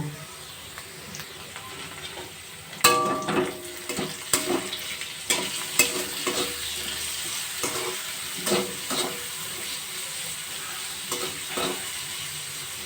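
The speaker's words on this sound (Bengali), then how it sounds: "আলুগুলো যতক্ষণ না পর্যন্ত একটু নরম হচ্ছে ততক্ষণ পর্যন্ত এইভাবে ভাজতে থাক" Potatoes and chopped tomatoes fry in a pan with a continuous soft sizzle, broken by irregular scraping and clanking as a spoon stirs the mixture.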